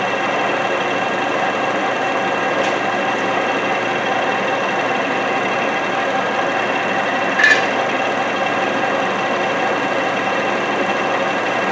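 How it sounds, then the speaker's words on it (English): Milling machine running at about 280 RPM, a steady mechanical whir and hum close by with a couple of faint ticks and a brief metallic clink partway through. "we'll get this set up so you can see me do the milling machine"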